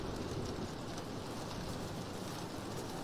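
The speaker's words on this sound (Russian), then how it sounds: "Просто дождь." Steady video game rain falls as a soft, even hiss of many drops, quiet and continuous with no voices over it.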